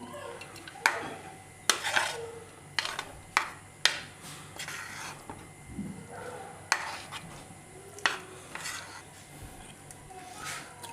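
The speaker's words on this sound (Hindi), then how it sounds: "अब इसको हम चॉप करेंगे। बिस्मिल्लाह, इसमें शामिल कर देते हैं चॉपर में।" A food chopper works on fried chicken and dal for shami kabab, giving irregular loud clacks and ratcheting, rattling bursts separated by quieter pauses.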